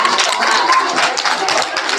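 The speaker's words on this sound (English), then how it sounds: "So let's give them a round of applause." Dense, continuous clapping from an audience at a school awards assembly for kindergarten and first grade classes, filling a short burst with an even, busy patter.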